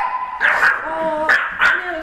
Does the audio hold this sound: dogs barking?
yes